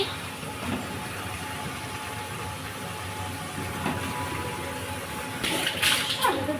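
Chicken pieces hit hot spiced oil in a pan and sizzle in a steady, dense crackling hiss that swells louder toward the end.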